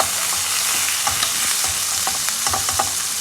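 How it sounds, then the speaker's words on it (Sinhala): Chicken pieces hit hot oil in a pan and fry with a loud, continuous sizzle, broken by repeated clinks and scrapes of stirring, up close with no one speaking. "දැන් මම මේ චිකන් ටික දාගත්ත තෙල් එකට එකතු කරගමු."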